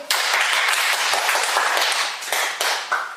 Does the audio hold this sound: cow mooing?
no